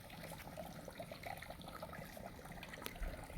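Water from a borewell pours into a storage tank on a coconut grove farm, making a faint, steady gushing trickle that runs continuously with no voices over it.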